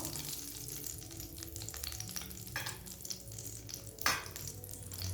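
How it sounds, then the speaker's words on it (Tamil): Small shallots and green chillies fry in oil in a pan with a continuous soft sizzle and occasional stirring scrapes, one sharper clatter near the end, no speech. "இதை ஒரு கை சின்ன வெங்காயம் இப்போ சேர்த்துடலாம்"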